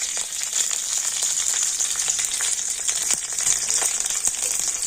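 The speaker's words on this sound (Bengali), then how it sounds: "আর এখন আমি তেলের মধ্যে দিয়ে দেব কয়েকটা কারি পাতা, আর দিয়ে দেবো অল্প একটু গোটা জিরে।" Curry leaves and whole cumin seeds sizzling in hot oil in a pan, a steady bright hiss with small crackles and pops throughout, close and continuous with no talking.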